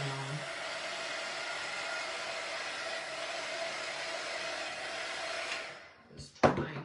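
A hair dryer blows on wet paint, a steady close whooshing hum that runs evenly for several seconds, then cuts off and leaves a few brief handling knocks.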